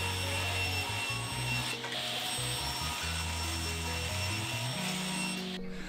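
A half-inch MDF sheet is cut with a power saw in a steady, loud, continuous whine that shifts pitch slightly as the blade moves through the board, with no voices.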